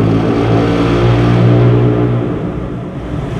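A Ford F150 Raptor fitted with a flap exhaust system and HJS downpipe revs loudly up close, a deep rumbling engine note swelling and holding before easing off slightly at the end.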